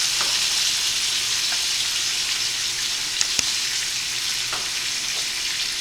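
Chicken browning in butter in a hot pan gives a steady, close sizzle and fry throughout, with a few faint clicks and one sharp tap partway through.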